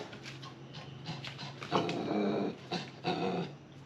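Dogs growling at close range in a village in Laos, with low, rumbling snarls and small whimpers and yips coming in uneven bursts over a few seconds and no talking.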